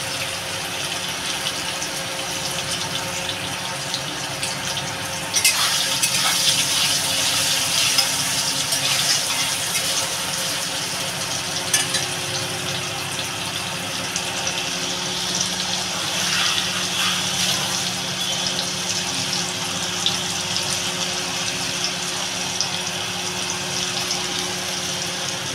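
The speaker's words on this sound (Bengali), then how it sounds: "এবার জল ঢেলে দেবো।" Water pours steadily into a cooking pot holding cut potatoes and fish curry, a continuous close splashing and trickling hiss that swells slightly partway through.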